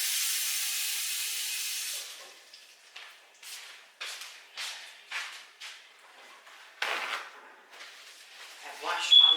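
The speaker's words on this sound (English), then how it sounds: "let me wash this lemon off and cut it" A lemon washed under a kitchen tap: a steady hiss of running water, then a series of irregular splashing bursts as the fruit is rubbed and turned, close by.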